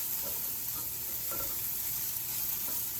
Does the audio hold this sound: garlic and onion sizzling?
yes